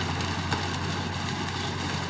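Farm tractor engine idling steadily at close range, a low continuous hum with a constant drone and no breaks, heard alone in a rice-field setting.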